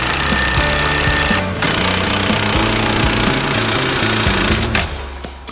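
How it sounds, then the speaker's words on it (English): An impact wrench driving big frame bolts while fitting side steps to an off-road vehicle, loud rapid hammering bursts running almost continuously with a brief break near the middle, then stopping near the end. "I got the impact wrench"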